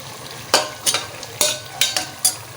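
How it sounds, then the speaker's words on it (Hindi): A spoon knocks against a pan five or six times in an uneven rhythm while spinach and tomatoes fry for a palak gosht aloo dish, with a soft sizzle underneath. "ये टमाटर जो फ्रीज़र के टमाटर थे ये डाल देने"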